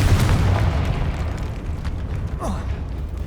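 A deep, rumbling Confringo blast from Hogwarts Legacy booms loud and close, then fades into a long low roar with a brief sharp flourish partway through.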